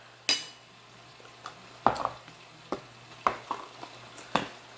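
Spoonfuls of ricotta cheese are mixed in a bowl for baked ziti: scattered spoon clinks and soft scrapes sound every half second or so against a quiet, low hum.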